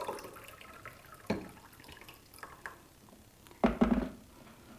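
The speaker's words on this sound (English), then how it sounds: "put half cold and half boiling water in a cup" Half cold and half boiling kettle water poured into a cup, heard as two short, fairly quiet splashing pours separated by a lull, with faint room noise in between.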